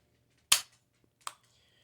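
Two sharp shots ring out from a Marlin Model 45 Camp Carbine, a loud crack followed a moment later by a second, slightly fainter report, each with a short decay and no talking.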